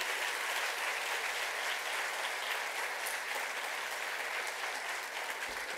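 Sustained, dense audience applause at a community folk-dance event, a steady even roar of many hands clapping at a distance, with no talk over it.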